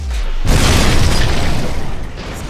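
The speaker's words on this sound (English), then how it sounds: "Explosion." A loud, booming explosion in Lego Marvel's Avengers bursts out and rolls on with a long, rumbling, noisy blast lasting a couple of seconds, with no talk over it.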